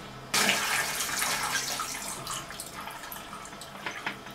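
Water with a wetting agent is agitated and poured out of a film developing tank, a steady splashing, gurgling rush that starts abruptly and continues for a few seconds at close range.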